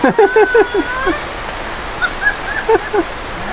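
Heavy rain falls as a steady hiss around a home, with short chirping calls rising above the downpour.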